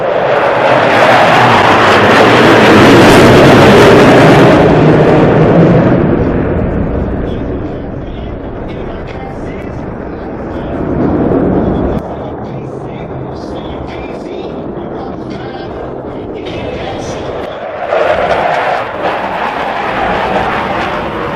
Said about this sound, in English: you will hear and feel the thunder of 8 engines producing